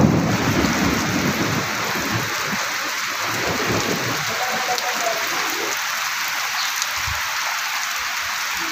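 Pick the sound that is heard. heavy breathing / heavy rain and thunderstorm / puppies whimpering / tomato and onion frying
heavy rain and thunderstorm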